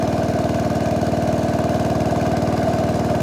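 A small motorbike engine runs steadily while being ridden to town in rural Thailand, giving a continuous, even, dry-sounding drone with a fast regular pulse throughout, loud and close, with no voices.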